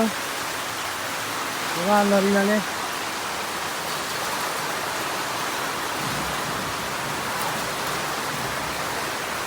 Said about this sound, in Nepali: टक्क पानी पनि परिरहेको छ